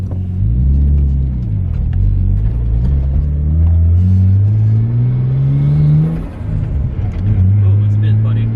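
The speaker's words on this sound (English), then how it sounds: "just revving it up just to make sure that it's not going to be missing or doing anything funky" A Nissan R33 Skyline engine tuned with a Link G4X ECU revs up and down several times, rising and falling loud and close, with the idle rumble between blips.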